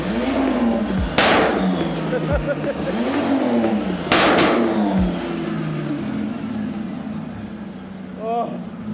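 A triple compound turbo VL wagon engine revs hard on a dyno, rising and falling in repeated loud sweeps with sharp bangs between pulls, then winds down at the end; voices are heard over it.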